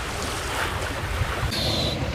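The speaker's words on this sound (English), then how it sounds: "One of the ocean rafting boats" A passing ocean rafting boat heads out across the open sea, its rushing hull and engine blending with steady wind buffeting and surf noise, close and continuous without a clear single pass.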